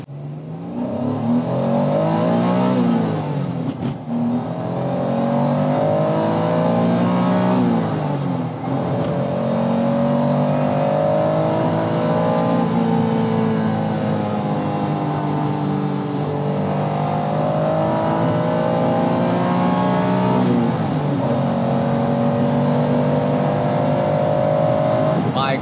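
A Honda NSX-R is driven hard at Daikoku PA, its engine rising and falling through several revving climbs and gear changes, heard from inside the cabin with people talking over it.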